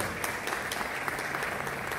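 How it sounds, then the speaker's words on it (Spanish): A crowd at an award ceremony in Cuenca, Ecuador applauds steadily, with dense, even clapping that holds at the same level throughout. "Fuerte el aplauso para nuestro colega Luis Parandulero."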